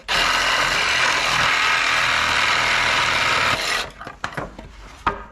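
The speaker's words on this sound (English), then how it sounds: "get a reciprocating saw and cut this down just like this" A reciprocating saw cuts through pallet wood boards with a loud, continuous buzzing rasp for several seconds, then stops, leaving a few knocks and clatters of wood.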